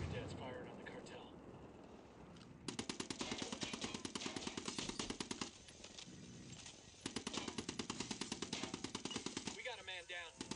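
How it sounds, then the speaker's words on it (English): Video game Ghost Recon Wildlands: Unidad troops open fire on the cartel with rapid bursts of automatic gunfire in two long stretches of sharp, loud, rattling shots, broken by pauses, with voices talking in between. "Unidad's firing on the cartel"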